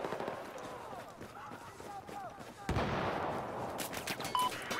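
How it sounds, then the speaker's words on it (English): Gunfire in a Battlefield 4 multiplayer match on the Lancang Dam map, with a sharp burst of shots cutting in midway and continuing dense and loud, mixed with battle noise; someone talks over the first half. "Who's shooting me?"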